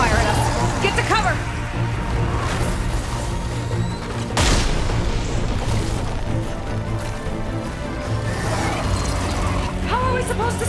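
A hostile machine in Horizon Forbidden West opens fire. Heavy booming blasts and crashing impacts come in bursts over dense game music, and a sharp loud hit lands near the middle.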